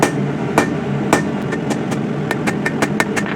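A hammer reshapes the point of a Bowie knife forged from coil spring steel, striking metal in a quick series of sharp, loud ringing blows that speed up toward the end over a steady background hum.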